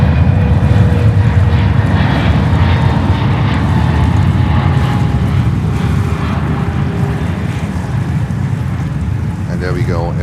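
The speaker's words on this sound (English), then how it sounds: "Air France 777-300 and a 241. There we go. Coming in from Paris on the 4 right." An Air France Boeing 777-300 arriving from Paris lands on runway 4 right at JFK airport on a sunny day, a loud, steady jet roar with wind rumble that holds for the full ten seconds.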